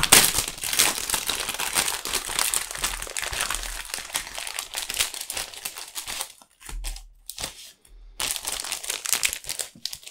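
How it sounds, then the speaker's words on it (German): Crinkling and tearing of the plastic wrapping on a Topps UEFA Champions League 2021/22 sticker multipack, with close, dense rustles and crackles that pause briefly, then resume. "wollen wir unsere Stickertüten mal aus dieser Verpackung rausholen die sich noch ein bisschen wehrt, aber die kriegen wir schon auf"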